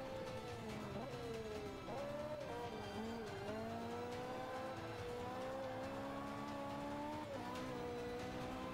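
A Mercedes race car in Forza Motorsport 5 drives with a continuous engine drone whose pitch rises and falls through gear changes, joined by tire squeal, steady and loud without speech.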